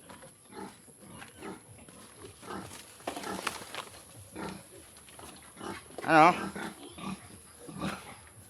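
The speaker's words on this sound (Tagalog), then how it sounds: "puntahan natin yung mga baboy." Pigs grunt and snort in a pen on a rural Philippine farm, a low intermittent rumble of grunts running through the scene, with one louder squeal-like burst near the end, while a person speaks nearby.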